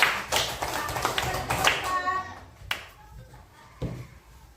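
Brief scattered hand claps from a small group in a classroom fade out quickly, with light taps and some room noise afterward.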